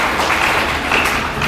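Audience clapping at a temple festival comedy performance in Kasaragod, a brief, close burst of dense applause that runs steadily from start to finish with no voices over it.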